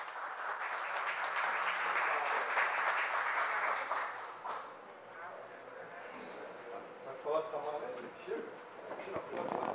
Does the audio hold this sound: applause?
yes